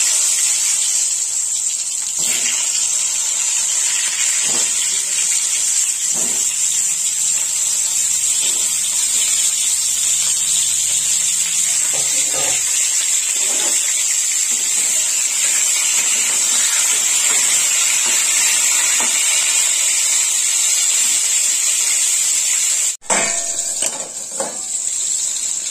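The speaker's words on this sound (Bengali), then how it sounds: "পটল গুলো ভেজে নেব।" Pointed gourd frying in hot oil for a potato and pointed gourd curry, a steady loud hiss that holds evenly for most of the clip, breaking briefly near the end before resuming.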